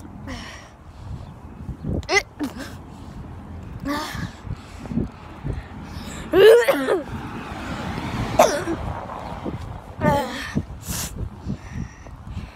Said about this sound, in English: Those dangle fumes making me cough.